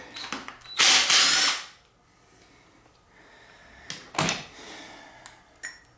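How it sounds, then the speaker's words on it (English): A power tool drills loudly at a small bolt on the coolant pipe of a Subaru Forester during head gasket work, a sustained burst of about a second followed by a shorter, sharper run and a few faint clicks. "There's a little socket, or not socket, a little bolt right here we gotta remove. It's for the coolant pipe."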